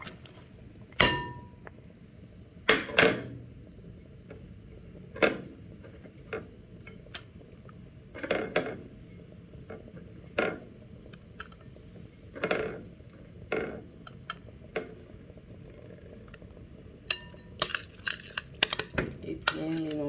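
Utensil clinks against a bowl while mixing a vinaigrette with mustard, chopped onion, parsley and garlic. Close, irregular taps and scrapes recur over twenty seconds, with a voice talking in the background.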